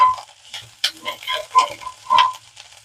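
Sliced bitter gourd frying in oil in a kadai, close crackling sizzle broken by several distinct scraping stirs of a spatula against the pan, uneven bursts over a few seconds with no talk.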